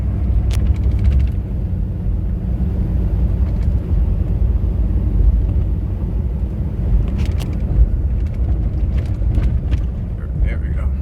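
A 2016 Ford Super Duty F-350 dually 4WD with the 6.7L diesel, 171K miles, droning loud and steady as it accelerates through manual-mode gear shifts, deep rumbling cab sound with occasional faint clicks.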